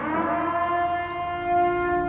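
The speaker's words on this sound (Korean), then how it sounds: "숙청의 날이 끝나는 사이렌이 울리기 시작합니다" A steady, sustained siren drones at fairly low volume, holding an even tone with faint background noise and no voices.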